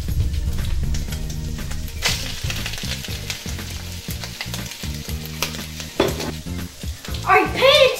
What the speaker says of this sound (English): now we're going to add a cup of frozen peas and carrots